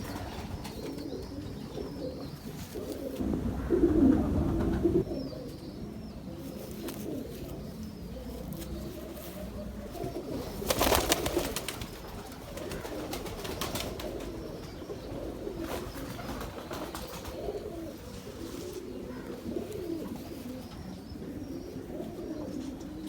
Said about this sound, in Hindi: हमारे बड़ी पुरानी ब्रीड है काने वाले कबूतर।